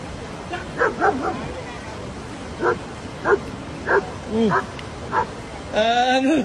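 A dog barks in short, separate bursts spread across the clip, fairly close, followed by a longer whining yelp at the end.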